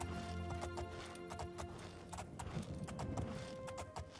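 Rhythmic horse hooves clip-clop steadily over a faint background, a brisk repeated trot heard close and clear without speech, in the video game Oblivion.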